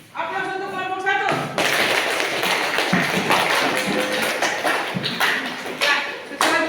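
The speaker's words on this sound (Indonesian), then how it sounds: "Aplaus untuk kelompok 1." A classroom group claps for the first presenting team, a steady wash of many hands breaking in after a brief faint voice and continuing throughout with uneven, overlapping claps.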